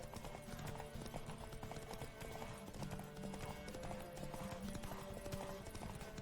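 Horses gallop in a race in The Witcher 3, rapid rhythmic hoofbeats drumming throughout at moderate volume, with a faint whinny and quiet game ambience underneath.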